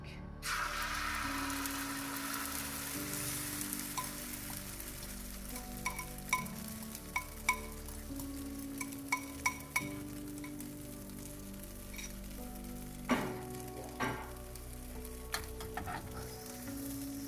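Egg being stirred into an African tea mixture heating on a fire, with a steady low sizzle and bubbling throughout, punctuated by scattered light clinks and scrapes of a spoon against the pot.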